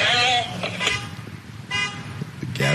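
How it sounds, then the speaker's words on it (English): A car alarm goes off nearby, sounding in short tonal bursts at the start, middle and end, mixed with voices. "Whose car alarm is that?"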